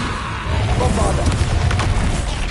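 A Bombarda blasting spell explodes in Hogwarts Legacy, giving a loud, sustained boom with rumbling low-end debris across the whole moment, mixed with game sounds and voice activity.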